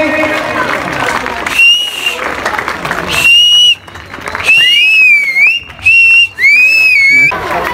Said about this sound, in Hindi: भरपूर क्लैपिंग जोरदार ताली बजे